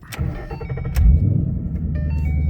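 A 2011 Ford Mustang GT Premium V8 cranks briefly and fires up loudly at close range, settling into a deep, rumbling idle after a short starter whir and a faint key jingle.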